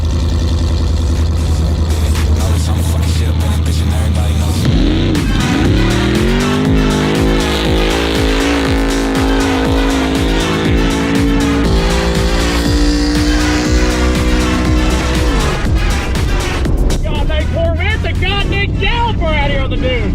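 An off-road Corvette with 800 extra horsepower races on sand dunes, its engine roaring loud and close with rising and falling revs and tire noise, while people shout and talk over it.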